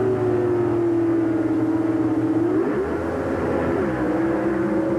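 Drag racing cars, a 600-cubic-inch mountain motor against a 500-cubic-inch engine, at the 1989 IHRA Winternationals: a loud, continuous engine roar that holds steady, wavers and shifts pitch midway, then settles back to a sustained drone.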